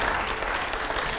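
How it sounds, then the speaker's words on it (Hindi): A TV studio audience on a TV9 talk show claps in a brief, dense burst of applause, steady and close throughout. "जोरदार तालियां रुकनी नहीं चाहिए।"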